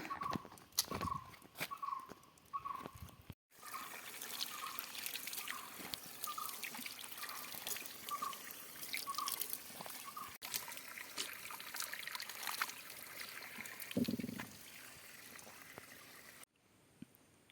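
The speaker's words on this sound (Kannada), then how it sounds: "ದಿನದ ಇಪ್ಪತ್ನಾಲ್ಕು ಗಂಟೆ ನೀರು ಹರಿತಾ ಇರುತ್ತೆ" A stream flows steadily, trickling and gurgling at a low, even level that runs the whole way through. A brief gap in the sound breaks it early, and a faint voice rises once near the end.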